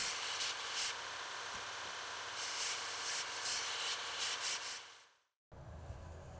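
Steel tubing being cleaned of rust and mill scale as weld prep, a steady close abrasive grinding or sanding rasp with brief pulses, cutting out near the end before resuming.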